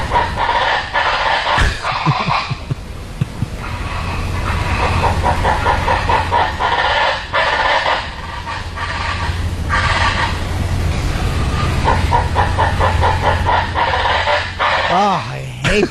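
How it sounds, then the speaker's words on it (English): Loud, harsh honking calls of a screamer bird repeat over and over, close by, with a steady low rumble underneath and occasional voices mixed in. "I think if it's the same bird, it's called a screamer, I believe."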